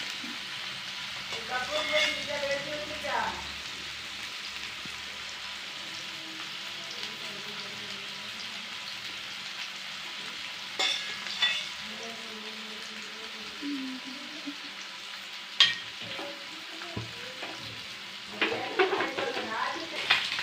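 Fish frying in oil, cooked village style, gives a quiet steady sizzle with occasional scrapes and clatters as the pieces are turned, and speech comes in at intervals over the top.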